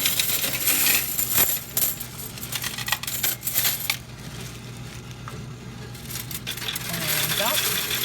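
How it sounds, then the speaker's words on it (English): A Coinstar coin counting machine chatters as loose coins are dumped into its slot, with a dense, continuous metallic jingle and clatter over a low mechanical hum. "Okay, we're going to put the coins in."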